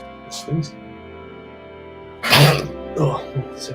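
A person sneezes sharply and loudly at close range, preceded by a softer breathy catch, with people talking around it.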